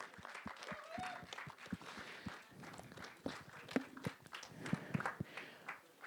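Scattered, fairly faint hand claps from an audience at a film trailer launch, greeting actor Bobby Deol, with irregular, uneven claps and no steady roar.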